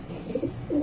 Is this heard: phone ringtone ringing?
no